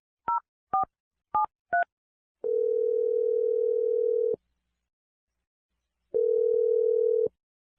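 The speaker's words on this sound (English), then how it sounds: "I'm going to dial number right now." A telephone dialing a number: four short, clear touch-tone beeps in quick succession, then a steady ringback-like tone lasting about two seconds, a pause, and another long tone, all loud and without talk.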